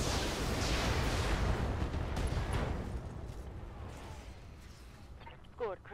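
Mech weapons fire in the video game Roguetech as a dense, rumbling barrage of explosive blasts that fades over several seconds, followed by a faint voice near the end.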